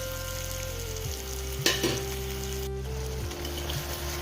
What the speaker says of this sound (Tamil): இந்த தக்காளி அதுவும் சேர்ந்து கொஞ்சம் வதங்கட்டும்.